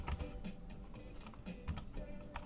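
Typing on a computer keyboard, a short run of soft, close key clicks in an uneven rhythm, quiet and with no talking.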